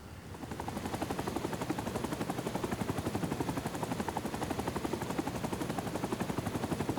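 Cobra attack helicopter in Rising Storm 2: Vietnam spooling up, a loud, steady rotor chop of rapid, even pulses over a dense engine whine that holds constant throughout.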